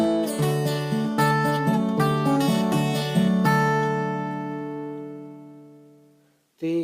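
An acoustic guitar picks the Cockles and Mussels (Molly Malone) melody over bass notes in a lively run of plucked notes, then lets the final chord ring and fade before a fresh strum at the end, close and clear with no talking.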